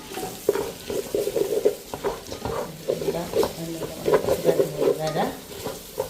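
Turmeric and curry powder fry in oil for a chicken curry, a steady sizzle broken by repeated scraping stirs close at hand, with no talking.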